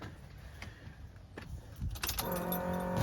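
Keys jingle near a 1986 Chevy Silverado K10 short-wheelbase square-body pickup, then its engine cranks briefly and catches into a steady, rumbling idle close by.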